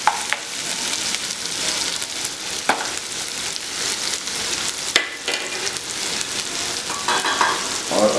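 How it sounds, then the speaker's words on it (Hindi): Onions frying in hot oil in a pan, a loud, close, continuous sizzle broken by a few sharp spoon scrapes and stirring clicks, with no talk. "ये प्याज हम पका लेते हैं पहले।"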